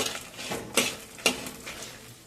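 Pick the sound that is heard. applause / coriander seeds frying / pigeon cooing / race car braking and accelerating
coriander seeds frying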